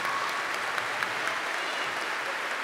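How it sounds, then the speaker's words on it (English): Audience applause for students at a lower school Christmas program, a steady dense wash of clapping from a large crowd that holds evenly throughout. "Let's give the students a round of applause."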